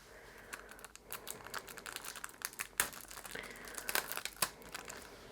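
Plastic packaging on Cretacolor MegaColor pencils crinkles and crackles continuously as it is handled and pulled at, with sharp irregular rustles throughout.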